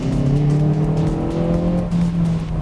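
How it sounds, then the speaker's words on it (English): A 2019 Hyundai Veloster Turbo engine growls loudly up close, its exhaust note rising and holding a deep droning pitch, with no speech over it. "The exhaust note, pretty solid in the Veloster."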